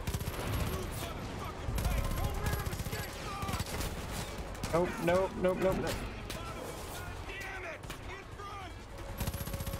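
Rapid bursts of gunfire from the video game Far Cry 5 crackle through the scene, loud and repeated, mixed with frequent talking and game effects.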